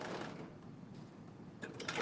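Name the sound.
sewing machine stitching a bodice seam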